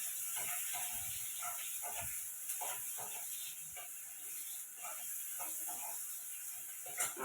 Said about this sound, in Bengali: এখন কড়াইতে তেল দিয়েছি। এবার তেলের মধ্যে এই পেঁয়াজ কুচিটা আমি দিয়ে দেবো।